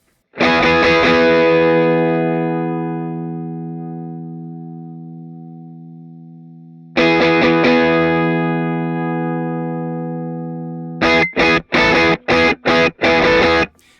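Electric guitar chords through an Anasounds Cerberus distortion pedal, tone set dark, ring out long and slowly fade, struck twice, followed by a quick burst of short, choppy stabs with a darker, heavy tone.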